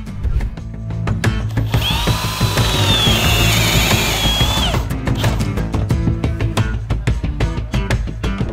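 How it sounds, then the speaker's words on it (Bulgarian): A power drill bores into a wooden beam at a 15-degree angle through a jig, whining steadily for a few seconds and then slowing as clicks and knocks of handling follow, close and loud. "За поставката на лоста пробиваме под ъгъл 15 градуса."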